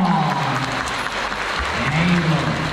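A crowd applauds continuously during the Splash Safari show at Singapore Zoo, with a voice speaking over the clapping.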